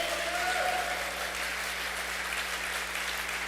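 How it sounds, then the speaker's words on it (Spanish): Dense, sustained applause from a church congress audience honoring Jesus Christ, a continuous wash of many hands clapping at even loudness over a low steady hum, with no voices on top. "Dale un aplauso, por favor, a Jesucristo."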